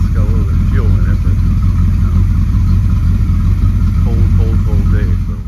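Crusader 454 marine boat engine running with its starboard motor fouling plugs, a continuous rough mid-low rumble near and steady, with someone talking over it intermittently.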